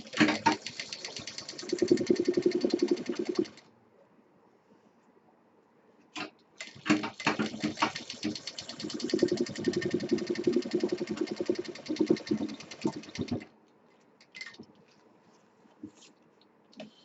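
A sewing machine stitching piping onto a sling potli bag, running in two long bursts of rapid even stitching separated by a pause, then short stop-start bursts, close and clear with no voices.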